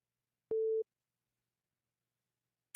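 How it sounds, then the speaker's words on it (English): A single phone alert tone, one steady electronic beep lasting about a third of a second, rings out alone in near silence, followed later by a brief faint click. "Did you hear that? Yeah, it's my phone."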